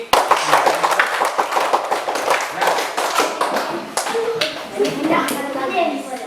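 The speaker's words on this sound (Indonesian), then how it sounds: "Silakan kasih tepuk tangan sekali lagi" Schoolchildren in a classroom clap their hands in a dense, uneven burst of sharp slaps that lasts several seconds and thins out toward the end, with children's voices mixed in.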